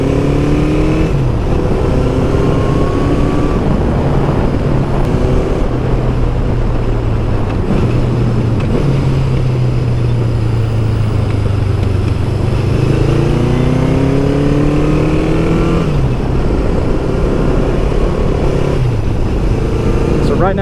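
A Honda CB750 motorcycle engine runs steadily while the bike is ridden, its low drone rising and falling in pitch through shifts and throttle changes over about twenty seconds, with someone talking over the top.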